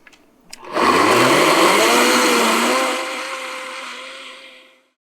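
A Vitamix blender whirs up loudly after a brief click, grinding at full power, drawing up to about 646 watts, for a couple of seconds, then eases slightly and winds down to silence.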